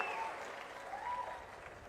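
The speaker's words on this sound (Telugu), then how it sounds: "గట్టిగా చప్పట్లు కొట్టి కలెక్టర్ని," Crowd applauding at a public meeting in Achanta, a steady wash of clapping lasting the whole short moment, moderately distant and fairly faint.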